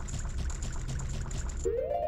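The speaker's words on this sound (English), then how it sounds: "You filled your bottle with hot spring water." Hot spring water pouring into a bottle in the Zelda game Majora's Mask, a short bubbling gush that stops and gives way to a quick rising chime.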